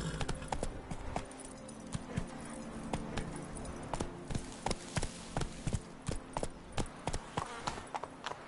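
Horse galloping in The Witcher 3: Blood and Wine on PS5, with steady, rhythmic clip-clop hoofbeats pounding close and clear throughout, no voices.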